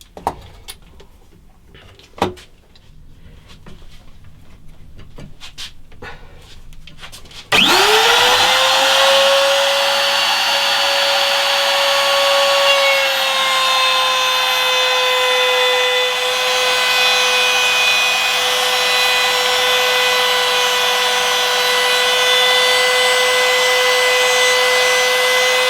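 Electric router cutting a wood guitar neck for a truss rod and carbon rod channel, spinning up abruptly after a few quiet taps, then a loud steady high whine with sustained cutting noise.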